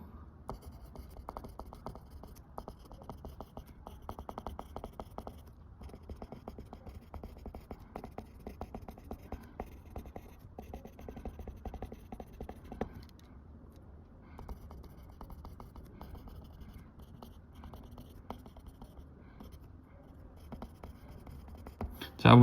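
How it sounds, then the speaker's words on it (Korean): A teacher writes out a maths problem on fractions, with steady scratchy strokes and taps running close and quiet for over twenty seconds without pause. "자, 한번 선생님 문제를 써볼게요."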